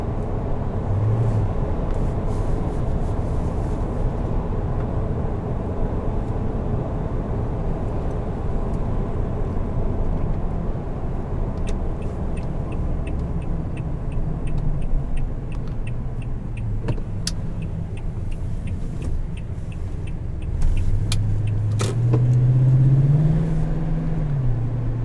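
A 2018 Toyota Tundra 1794 Edition with a 5.7 V8 hums as a steady engine and road drone while driving, swelling briefly toward the end.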